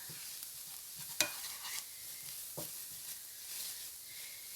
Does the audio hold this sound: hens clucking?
no